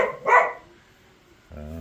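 A dog on a wet, windy cattle farm gives two quick, sharp barks close by, followed after a short pause by the start of a deeper, tonal bark or yelp.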